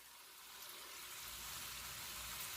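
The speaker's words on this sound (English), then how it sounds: "Now, test the oil, and it's ready. They sizzle." Steady, bright sizzling of vegan potato taquitos frying in hot oil, continuous and close, with no talking.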